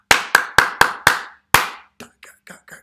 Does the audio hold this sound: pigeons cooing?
no